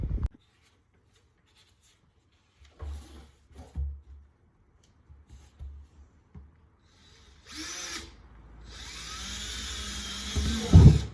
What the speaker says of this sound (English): So I'm going to go ahead and drill those holes in here